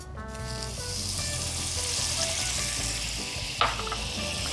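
Butter melting in a hot pan for a fish velouté sauce, a steady close sizzle and crackle with fine spattering throughout, joined by a brief clatter near the end.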